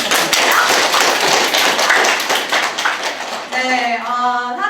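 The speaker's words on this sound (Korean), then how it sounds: "다시 한번 큰 박수 부탁드릴게요." A school event audience claps in a dense patter of hand taps that tails off, and a voice begins speaking near the end.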